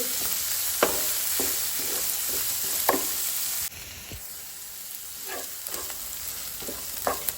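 Onions and green chili frying in a pan until light brown, a steady close sizzle with occasional scraping stir strokes from a utensil, and no voices.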